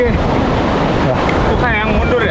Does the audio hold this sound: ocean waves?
yes